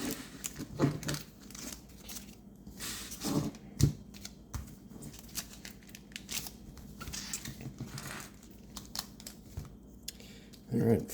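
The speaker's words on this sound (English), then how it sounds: "I'm going to take these out and shuffle them up." Quick papery riffling and flicking of One Piece trading cards from a box break, in several short bursts with small pauses, close by and fairly quiet.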